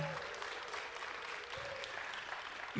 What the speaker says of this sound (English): Can we give another round of applause for this whole...